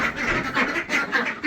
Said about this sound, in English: Just terrified the ducks by getting in there.